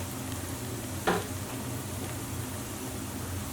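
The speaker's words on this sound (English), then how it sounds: "we just want to fry this until it's nice golden brown and soft" Ingredients for Lebanese maghmour frying in a pan, a soft, even sizzle with one brief clatter near the start, steady and fairly faint.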